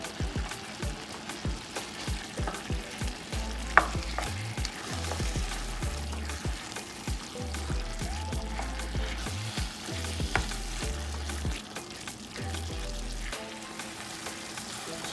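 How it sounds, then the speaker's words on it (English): Ackee and saltfish sautéing in a pan, a steady close sizzle with intermittent stirring scrapes and soft rhythmic clatter, heard alone with no talking. "So I'm gonna just let it saute for 5 more minutes and it's gonna be ready."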